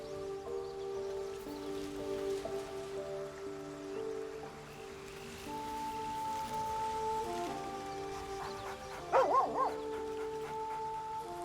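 A dog in the video game Baldur's Gate gives a short burst of barks near the end, heard over quiet layered game music and soft ambient rain-like patter.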